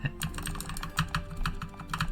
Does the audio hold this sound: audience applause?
no